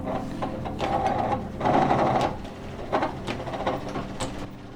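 A foot-powered wooden lathe, once owned by a bobbin weaver, rattles and whirs in uneven mechanical bursts that swell and fade with each treadle push, close and fairly loud, with no talking.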